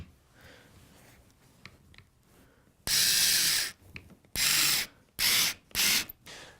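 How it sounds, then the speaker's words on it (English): Screwdriver tightening screws into a corner fitting, heard as four loud, buzzy bursts of powered driving separated by short pauses, close up with no talking. "Put both screws in and then tighten both up."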